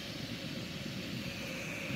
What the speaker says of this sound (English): The jet boil going.